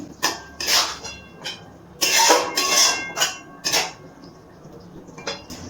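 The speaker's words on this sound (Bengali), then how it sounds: "একটু নাড়াচাড়া করে নিচ্ছি।" Broccoli being stirred in a cooking pot, giving a series of close scraping and clattering bursts of utensil against metal in irregular bunches, with brief pauses between them.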